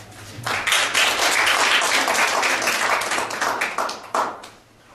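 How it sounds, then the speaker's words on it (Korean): Audience applause greets a doctor introduced as a lecturer in an MBT healing talk at a Korea University policy course, a dense, steady burst of many hands clapping that fades out near the end. "여러분 큰 박수로 맞이해주시기 바랍니다."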